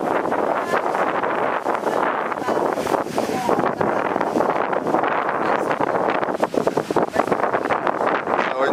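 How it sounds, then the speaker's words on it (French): Strong seaside wind by a Venetian fort on Crete over rough sea, a loud, steady roar battering the microphone with constant gusty rumble throughout. "on est au bord de la mer, il y a un vent terrible"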